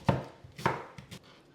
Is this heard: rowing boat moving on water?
no